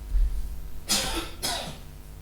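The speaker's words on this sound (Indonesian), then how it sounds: "Ditutup dengan batuk ya." Two coughs, about half a second apart, over a low steady background hum; no one speaks.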